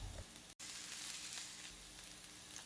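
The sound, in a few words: chopped onion and ginger garlic paste frying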